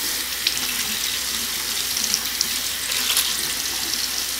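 Steady running tap water splashes over a dry makeup sponge as it is wetted in a sink: a continuous, even hiss of flowing water from start to finish, fairly close, with no voices.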